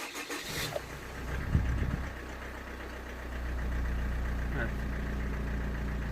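A Chevrolet Orlando engine cranks briefly and catches, then settles into a steady low idle close by.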